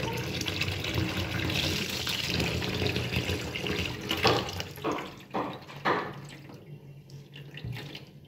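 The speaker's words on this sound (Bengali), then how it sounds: "এরপর পরিষ্কার পানি দিয়ে 2-3 বার ধুয়ে নিতে হবে।" Banana stem is rinsed under a running kitchen tap. A steady gush of water fills the first half, then gives way to several uneven splashes as the pieces are washed.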